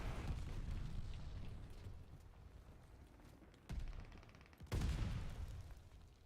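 A glide bomb in a video game explodes with a heavy low boom, and a second deep blast follows, both over a rumbling battle backdrop of distant fire.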